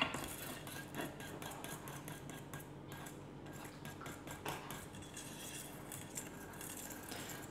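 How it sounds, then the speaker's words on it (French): A utensil mixes flour and baking powder into a gluten-free orange-juice biscuit batter in a bowl, steady soft scraping and clinking strokes, quiet and close, with no talking. "On mélange la farine progressivement."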